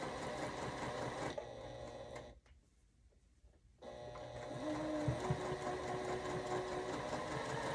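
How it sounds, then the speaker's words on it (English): A sewing machine back stitching a gift bag seam whirs in a steady, close mechanical run, stops for a brief pause, then resumes with the same rapid stitching hum. "We're gonna go and we're gonna back stitch."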